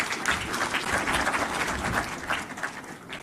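Audience applause fills a bell-ringing ceremony at the Nairobi Securities Exchange, a dense, steady wash of many hands clapping at close range for the whole stretch, with no talk over it.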